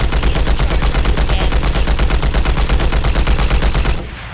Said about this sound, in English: that gun's the fastest firing assault rifle in the game